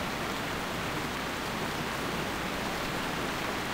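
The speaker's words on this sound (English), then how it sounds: "It's raining." Steady, dense rain hisses without a break in World of Warcraft, a loud continuous wash of drops with no voices over it.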